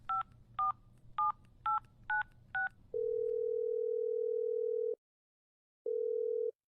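Six quick touch-tone beeps of a telephone being dialed, each short and evenly spaced, followed by a long steady tone that cuts off and resumes after a brief silence.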